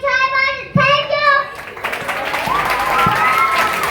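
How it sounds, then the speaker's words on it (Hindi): Audience applause at a school Republic Day celebration, with clapping and a crowd of children swelling after a voice speaks, filling a hall with steady, fairly loud noise. "एक बार जोरदार तालियां"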